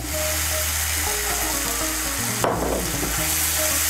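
Green peas tipped into spice paste frying in a pan, with a continuous close sizzle, a brief clattering burst as they go in, then steady frying hiss afterward.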